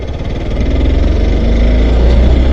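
Hero Xpulse Pro 200 motorcycle, single-cylinder engine thrumming close and loud with a steady pulsing beat, the revs climbing slightly over a couple of seconds.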